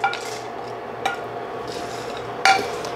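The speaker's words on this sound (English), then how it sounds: "So just put it all in the frying pan" Light clinks of a utensil against a frying pan as spices for garam masala go in to toast, a few sharp metallic taps over a low, steady background hiss.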